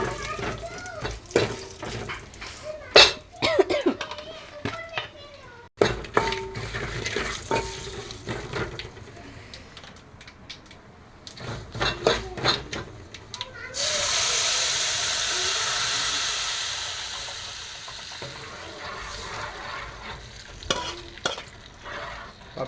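Curry leaves crackle in hot oil for a dal tempering, a loud sustained sizzle starting partway through after clatter and stirring noises in a home kitchen.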